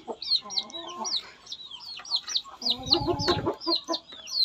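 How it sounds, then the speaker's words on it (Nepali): Chickens cluck and call in a coop, a close, busy chorus of repeated short clucks and squawks overlapping throughout, with a brief rustle partway through. "कुखुरा निकाल्न गइरहेको छु खोरबाट।"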